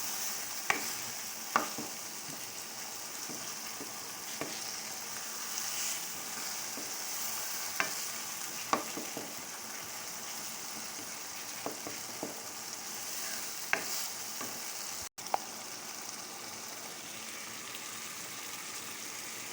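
Brinjal and potato curry frying in a pan, a steady soft sizzle under occasional spoon scrapes and clinks, close and continuous for the whole stretch.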